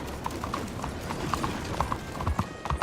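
Hooves of a horse in the video game Red Dead Redemption 2 clip-clop in a steady trotting rhythm, close and fairly loud over a soft ambient bed, with no talking.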